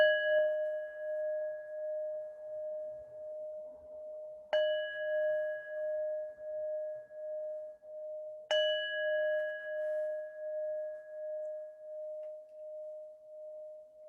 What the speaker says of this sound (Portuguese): se eu ponho o sino aqui perto do meu microfone